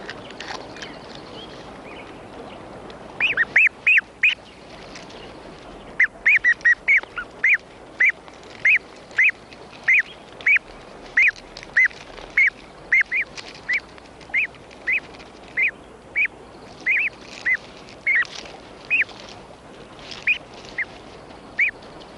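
Ducks and newly hatching ducklings at a Rocky Mountain beaver pond; high peeping calls repeat in a fast, regular series close by over faint background noise.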